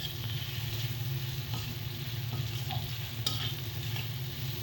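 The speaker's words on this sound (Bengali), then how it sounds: "সমস্ত মশলাগুলোকে আলুটার সাথে খুব ভালোভাবে মিশিয়ে নিতে হবে।" A spoon stirs spices and potatoes together in a hot pan, giving a steady, close frying sizzle with soft scraping and stirring scuffs throughout, no voices.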